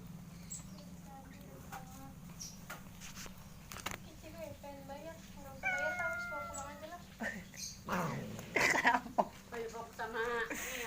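Domestic cat meowing repeatedly in short and drawn-out calls, close by, with footsteps and shuffling around it and people talking nearby.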